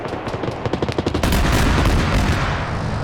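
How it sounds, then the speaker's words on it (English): An ATGM missile launches in a multiplayer PvP shooter game, a sudden loud roaring whoosh that follows a quick burst of gunfire and sustains with a gradual fade. "They're trying to line up their ATGM launcher."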